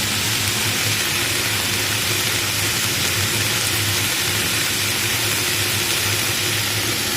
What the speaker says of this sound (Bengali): ক্যাপসিকাম আর পেঁয়াজটা ভাজছি